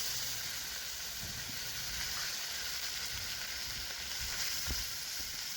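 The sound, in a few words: ginger, garlic and onion paste sizzling in hot oil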